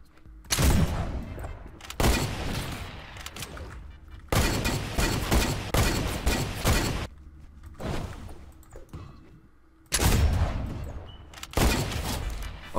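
Video game gunfire during a trickshot course, loud sharp volleys of shots in repeated bursts separated by brief pauses, close and dominant throughout.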